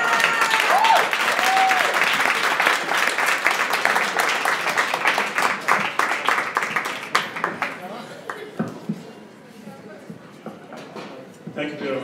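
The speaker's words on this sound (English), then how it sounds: "Can we give him another round of applause?" An audience at a speaking event applauds a speaker, with dense clapping that is loud at first and thins gradually toward the end, while a voice speaks over it.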